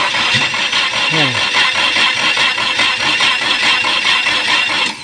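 A Ford Lynx car engine tries to start after a general overhaul, giving a loud, dense mechanical roar that runs steadily through the clip while voices talk over it.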